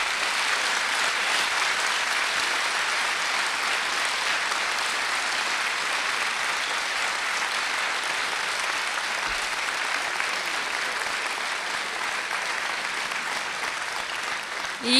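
A stand-up comedy audience applauds in a sustained, dense wash of clapping that stays loud and even from start to finish.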